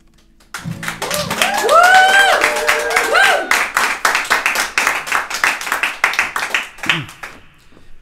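A live studio audience clapping and applauding on a weekly Wednesday show, a burst of applause that swells quickly and then settles into scattered, uneven claps, with voices and whoops mixed in near the start.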